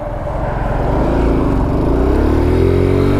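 A Corvette drives past a Kawasaki Z125 Pro motorcycle. A loud, steady engine drone swells as the car revs and pulls by close.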